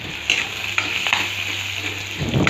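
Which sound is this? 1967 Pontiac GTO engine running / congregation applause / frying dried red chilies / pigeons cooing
frying dried red chilies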